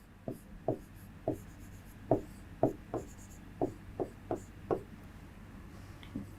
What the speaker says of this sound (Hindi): या हम वाक्य लिख दें, अक्षिता राजस्थानी